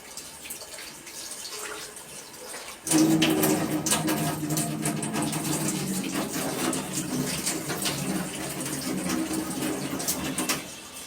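Water gushing from a tap starts abruptly after a quiet stretch and keeps running loud and steady at close range, then stops near the end, with no talking.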